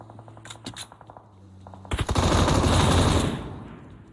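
Gunfire in the mobile battle royale game PUBG Mobile: a few sharp, faint clicks and shots, then a loud sustained automatic burst that rattles for about two seconds before tapering off.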